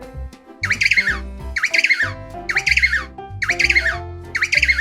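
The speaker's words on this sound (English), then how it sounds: "pigeon" Pigeon calls from a children's bird-sound lesson: four bursts of bright, warbling coos, each swelling in a burst of roughly half a second, come in a steady rhythm over a simple synthesized backing tune.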